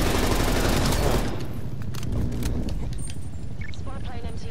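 XM4 rifle fire in Call of Duty: Cold War rattles out in a loud, rapid burst at the opening, then gives way to quieter game sounds with scattered faint shots.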